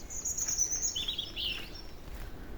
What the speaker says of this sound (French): Les oiseaux s'en donnent à cœur joie.